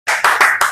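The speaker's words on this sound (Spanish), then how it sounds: "Fuerte aplauso, Señor." A church congregation clapping at a Sunday service, a short burst of three or four quick rhythmic rounds of clapping, close and fairly loud, with no talking.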